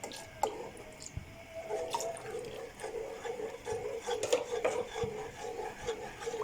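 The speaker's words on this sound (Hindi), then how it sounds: "और इसको मुसलसल हिलाएंगे ताकि इसकी गिल्टियाँ ना बन जाएं।" A spoon stirs custard powder mixed into boiling milk for a creamy dessert, giving faint scraping and soft liquid swirls with small taps against the pot, quiet and close.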